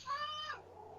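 A pet cat named Pumpkin gives a single short, faint meow indoors in the background, rising then trailing off.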